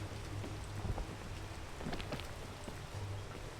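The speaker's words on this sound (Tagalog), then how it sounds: "Oh, it's raining." Steady rain falling outdoors on a mountain peak run, a broad continuous hiss with scattered drop patters and a low rumble, no talking.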